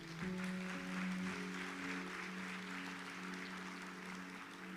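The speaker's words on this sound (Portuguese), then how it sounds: "Vamos aplaudir o Senhor" Church congregation applauding in a sustained, even patter of many hands, heard fairly faint beneath a held musical tone from an organ or keyboard.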